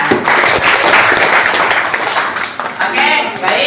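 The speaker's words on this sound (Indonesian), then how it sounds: "Mantap, tepuk tangan." A classroom of students claps together, a dense, loud burst of applause that runs without a break, with voices mixed into it.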